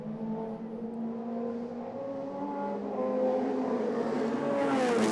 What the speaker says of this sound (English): Great sound effects from the Chevron as it blasts by us here in the tower